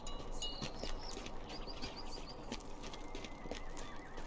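A horse in the Lord of the Rings Online game whinnies in several short rising calls over steady clip-clop hoofbeats, quiet and continuous beneath a faint background bed.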